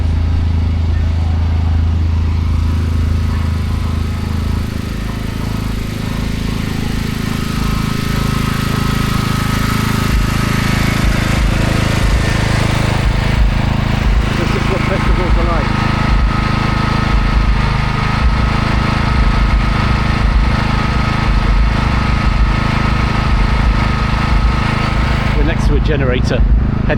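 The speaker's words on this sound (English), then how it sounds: "Generator, hence the racket." A generator runs steadily at an outdoor festival near Forge Dam in Sheffield, a loud, continuous droning engine rumble close by, constant throughout with little change in level.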